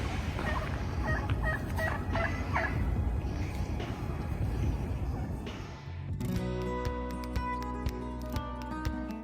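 Wild turkeys gobble in a few short bursts over a steady, noisy outdoor background, then the scene shifts to a different steady mechanical hum with faint clicks.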